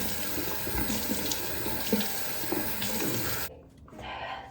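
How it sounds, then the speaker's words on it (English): A faucet runs steadily into a sink as healing clay face mask is rinsed off, a close, even splash that cuts off near the end, leaving a quieter room. "I'm gonna wash my face and rinse this all off"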